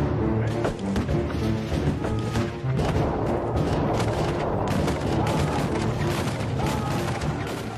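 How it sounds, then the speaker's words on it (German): Cannon and artillery fire from the main battery signalling a general assault during the 1631 siege of Magdeburg, heard as a dense, continuous barrage of loud booms and gunfire that rolls on throughout without a pause. "6 Kanonenschüsse der Hauptbatterie in die Magdeburger Neustadt sind das Signal für alle zum Angriff."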